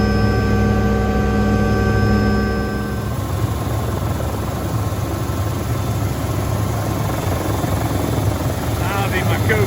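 A helicopter flies with its engine and rotor droning loudly and steadily. A strong low hum runs throughout and fades after a few seconds into a broad whooshing roar.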